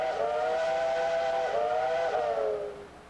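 A steam locomotive on the Cass Scenic Railroad sounds its whistle in one long chord-like blast, briefly dipping twice before trailing off, clear and fairly close with no talk.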